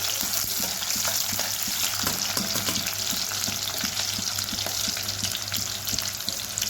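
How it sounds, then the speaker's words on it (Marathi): Garlic and green chili frying in hot oil for a dill-leaf bhaji give off a steady, close crackle and sizzle, with faint scraping as they are stirred, and no voices. "हे तळून घ्यायचं आहे आपल्याला चांगलं।"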